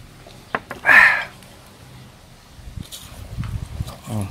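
Someone crunches on crispy deep-fried climbing perch: a few crisp bites and close chewing noises, with mouth sounds and light movement continuing afterward.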